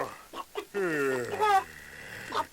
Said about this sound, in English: Lay golden eggs, my pretty hen